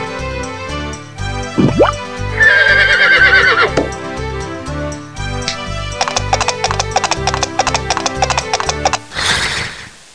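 A horse whinnies loudly, then hooves clip-clop in a quick, clear rhythm, with music playing throughout, in the 1996 PC game De vis die kon wensen.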